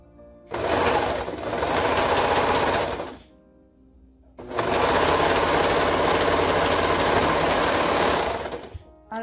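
A sewing machine stitches a crop top in two long, steady running bursts with a brief pause between, loud and close with no talking.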